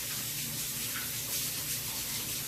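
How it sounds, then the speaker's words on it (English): Water runs steadily from a kitchen sink tap in a continuous, fairly quiet hiss with no other sounds over it. "keep the water running"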